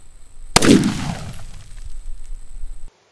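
.45 ACP pistol fired at a cinder block outdoors: a single sharp, loud shot with a rumbling decay lasting over two seconds, no talking.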